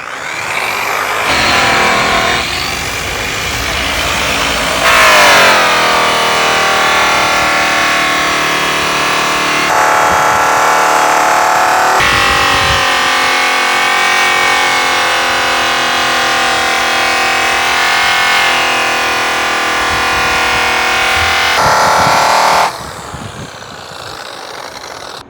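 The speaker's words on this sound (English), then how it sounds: "I'm gonna start at the top and I'm just gonna pull the buff down the part a little bit." A stitched buffing wheel runs against stainless steel, giving a loud, continuous whirring drone with tonal shifts as the buff is pulled down the part, then it stops near the end.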